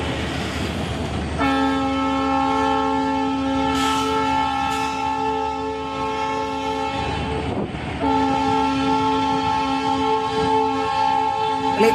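A train rolls past close by on the new Pamban bridge during a trial run, its horn sounding a long sustained multi-tone chord that cuts off and resumes, over steady rumbling wheels.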